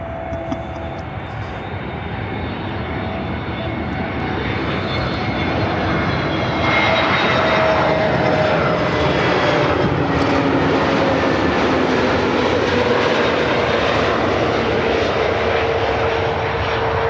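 A Frontier Airlines A320neo arrives at Chicago O'Hare from Cancun, its engine roar swelling and then holding loud, with whining tones that slide slowly downward as it passes by.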